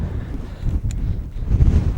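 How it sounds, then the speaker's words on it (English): Steady wind roars and buffets the microphone on a high spot near Moab, Utah, a low rumbling gusting noise with no voices. "You can probably hear the wind"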